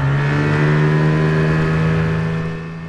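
A jon boat's outboard motor runs at a steady cruising drone, loud and close, holding an even pitch before easing slightly at the end, with no talking.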